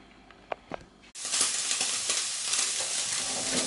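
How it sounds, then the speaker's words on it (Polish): Diced bacon hits a hot pan with sausage and onion and breaks into a loud, continuous sizzle after a couple of quiet knocks, frying steadily close by without talk. "Teraz kroję boczek w kosteczkę i z kiełbasą podsmażam oraz cebulą."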